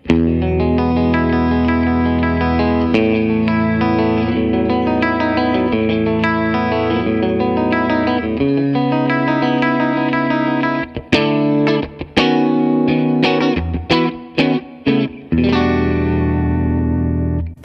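Clean electric guitar through a Line 6 POD HD400 amp modeler rings out in chords and single notes, sustained and bright, ending with a run of choppy, staccato strums.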